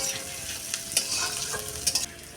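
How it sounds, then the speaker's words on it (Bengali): Spices fry lightly in a pan, a fairly quiet, steady sizzle broken by a few brief scrapes and stirring clicks. "ভেজে নিচ্ছ? একটু ভেজে নিই হালকা আছে।"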